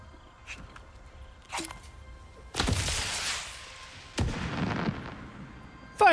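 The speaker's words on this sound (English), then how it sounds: "Fireworks!" Fireworks explode in God of War Ragnarok, several sharp booms and crackling bursts going off in sequence, loud and reverberant, with rumbling tails between blasts.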